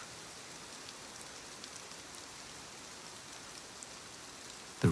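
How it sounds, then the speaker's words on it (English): Steady rain pattering on a station roof, a soft even hush of drops continuing throughout, with a brief louder burst right at the end. "The rain grows a little heavier, not wild, just fuller. It spreads over the station roof in a deep, comforting hush."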